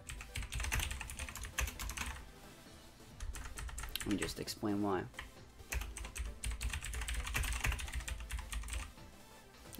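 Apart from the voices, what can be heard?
typing a reply on a computer keyboard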